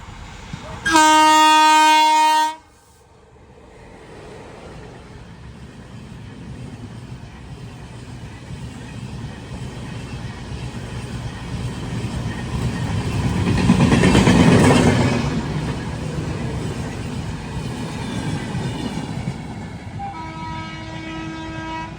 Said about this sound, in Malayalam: നല്ല ആംഗിളായിരിക്കും ആ ഒരു ട്രെയിൻ ക്രോസ് ചെയ്ത് പോകുമ്പോഴേ.